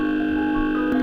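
A steady synthesizer tone passes through a special effects module, a sustained buzzing pitch with harmonics that holds evenly for about a second, with a slight shift near the end.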